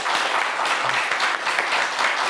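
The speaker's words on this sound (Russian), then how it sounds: "Эти аплодисменты в ваш адрес." Brief burst of audience applause for parents at a regional parents' meeting broadcast on television, loud and even throughout, with no speech over it.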